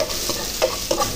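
Ginger goes into a pot of fresh chicken tinola, giving a soft, steady sizzle broken by a few quick stirring clinks over about a second.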